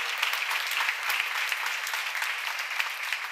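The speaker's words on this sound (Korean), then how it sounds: "박수." Audience applause in a seminar hall, a steady dense patter of many hands clapping together with no pauses, fairly close and even in loudness throughout.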